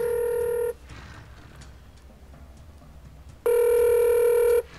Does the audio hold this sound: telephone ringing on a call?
yes